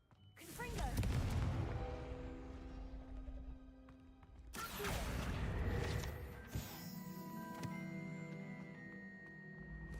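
Confringo fire spell blasting in Hogwarts Legacy: two loud, booming explosive bursts a few seconds apart, each rolling into crackling debris and lingering rumble, with game ambience underneath.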